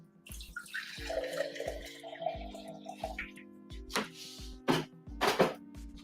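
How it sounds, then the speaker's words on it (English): Water poured from a container into a single-serve blender while making vegan tacos, a soft splashing and trickling in a few short bursts, close by, with thumps and clatter of kitchen handling in between. "now I'm going to add in about a cup of water"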